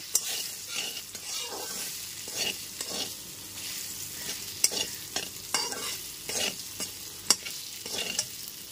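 Potato pieces fry with salt and turmeric in a pan as a spatula scrapes and tosses them in repeated strokes over a soft, continuous sizzle, close and without talk.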